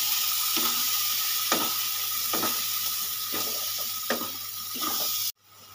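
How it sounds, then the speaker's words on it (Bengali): Shrimp and pointed gourd paste sautéing in a pan for a Bengali potol dorma, a steady sizzle with periodic scraping stirs at a close, moderate level that cuts off abruptly near the end. "ভালো করে আমি কষাতে থাকবো"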